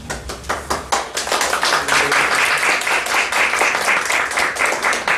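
A church congregation bursts into applause for a pastor, starting with a few distinct claps that quickly build into dense, loud, sustained clapping.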